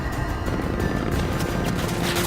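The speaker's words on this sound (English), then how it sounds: "Plane is returning." In Battlefield V, a warplane roars overhead in a dense, loud wash of engine noise amid battle sounds, continuous over the short span with no voices.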